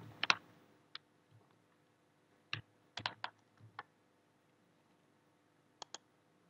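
Sparse keystrokes on a computer keyboard entering a domain name into a browser, a few quick clustered clicks and isolated taps, close but quiet with pauses between.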